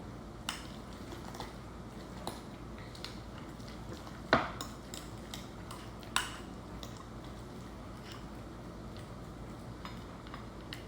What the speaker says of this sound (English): Is you just stir, and it kind of crushes itself as you stir it because they're already scored and everything